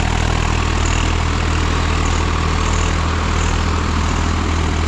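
A heavy diesel engine of a 2023 Swaraj 855 FE tractor runs steadily up close, a constant low throbbing rumble with no speech.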